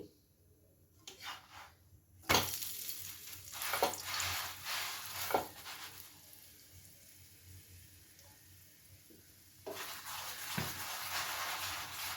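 A radish paratha fries in white oil on a pan, with quiet sizzling and intermittent scraping bursts against a low, soft background and no voices.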